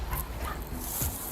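Dogs at a filthy house, awaiting seizure or surrender, give short yips and whimpers with a brief bark. The sounds come fairly close over a noisy background.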